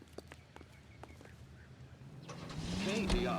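A car engine in the video game L.A. Noire idles faintly under scattered clicks and soft sounds, then rises into a louder rumbling rev toward the end.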